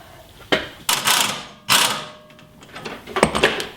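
A wrench cranks down a coil spring fitting in a few separate bursts of ratcheting, clicking metal, close and moderately loud, with brief pauses between the turns.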